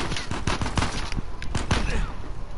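Repeated gunfire crackles through a hectic firefight in the video game Uncharted 4, a sniper among the shooters, with sharp shots landing in quick irregular bursts at close range.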